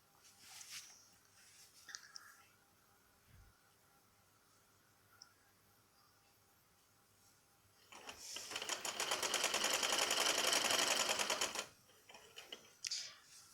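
A sewing machine stitches a belt salwar, with a few faint clicks and handling noises before one loud, steady run of rapid stitching lasting about four seconds, then brief short bursts near the end.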